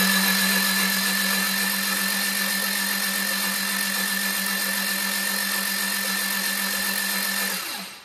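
A classic Mini engine spun over by a horrendously noisy high-torque starter gives a steady, loud, droning whir for about seven seconds before it cuts off abruptly.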